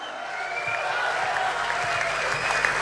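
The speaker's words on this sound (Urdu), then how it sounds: "زوردار تالیوں سے استقبال کیجئے" Audience at a mushaira poetry gathering applauding to welcome a poet, a dense, sustained wash of many hands clapping at an even level with no gaps.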